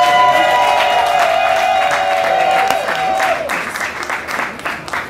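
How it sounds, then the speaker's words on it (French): A crowd at a civil wedding bursts into loud applause, dense clapping that thins toward the end, with a sustained tone fading under it at first. "Allez-y, on les applaudit."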